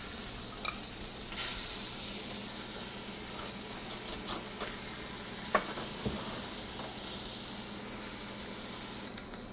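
Seasoned German bratwurst sausage meat frying in a skillet gives a steady, close sizzle throughout, with scattered pops and the scrape of stirring. No one speaks.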